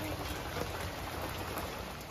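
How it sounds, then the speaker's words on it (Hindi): Heavy monsoon rain pours steadily outdoors, a dense, even hiss of falling water with no break and no voices. "और बाहर देखिए कितनी बढ़िया जोरदार बारिश हो रही है"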